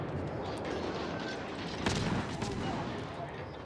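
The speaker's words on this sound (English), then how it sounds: "I'm going to hit T and start firing." Rapid gunfire from the French destroyer Siroco in World of Warships, a dense, continuous barrage of overlapping shots with a sharper, louder volley near the middle, sustained throughout without pause.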